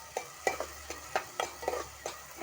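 Thinly sliced onions in hot oil for a chicken curry, with quiet sizzling under repeated spatula scrapes and stirring taps at an uneven rhythm, no voices.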